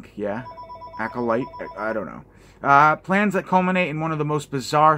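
A telephone rings faintly in the background while someone talks steadily over it throughout.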